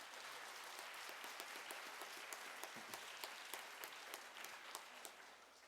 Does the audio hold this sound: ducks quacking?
no